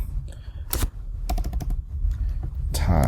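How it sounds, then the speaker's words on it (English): Close keystrokes on a computer keyboard come in quick, uneven bursts as figures are typed in, clattery and fairly loud, with no talking. "instead of just typing in that, I'm going to type in what I had before"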